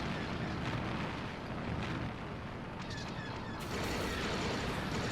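Reactors explode in the video game Disney Infinity 3.0, a dense, continuous roar of blasts and rumbling that swells louder toward the end.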